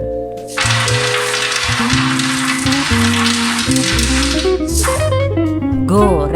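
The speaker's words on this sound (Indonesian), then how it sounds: "Goreng sisanya hingga habis." Peanuts frying in hot oil for a crispy snack, a loud continuous sizzle that fills the clip once they hit the oil, with background music playing underneath and a brief clatter near the end.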